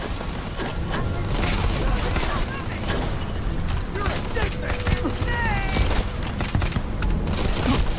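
Continuous, dense gunfire and booming blasts from the space shooter game Starfield fill the mix, with overlapping shots and explosions and a player's voice talking over the battle.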